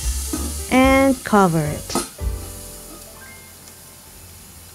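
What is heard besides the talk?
ribeye steaks sizzling in a Saladmaster pan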